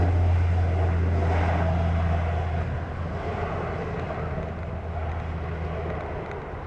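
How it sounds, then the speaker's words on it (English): A jet airliner roars on takeoff from runway 07 at Montego Bay airport, Jamaica, a broad steady rumble with a strong low drone that eases slightly as it continues, heard from a distance with wind buffeting the microphone. "clear to take off, runway 7"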